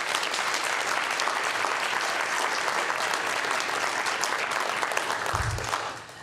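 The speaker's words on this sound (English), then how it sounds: "Please give them a round of applause." Sustained audience applause at a Clinton Global Initiative health equity session, a steady wash of clapping from a large crowd that tapers off at the end.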